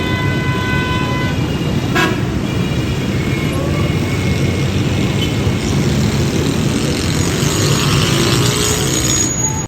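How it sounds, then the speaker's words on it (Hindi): Heavy street traffic rises from below a balcony, with a constant roar of engines and repeated car horns tooting, one sharp honk standing out, all at a steady loud level without speech. "बहुत ज़्यादा ट्रैफिक है, हल्ला गुल्ला नीचे मचा हुआ है और बहुत शोर की आवाज़ भी आ रही है"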